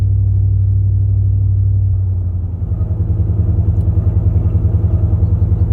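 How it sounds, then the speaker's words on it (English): A 2001 Ford E350 Super Duty V8 van with a stout 3-inch muffler rumbles loudly and close while driving, a deep steady drone that shifts into a throbbing, pulsing exhaust beat partway through. "Very stout muffler, has a nice low rumble, which makes these V8s sound really good."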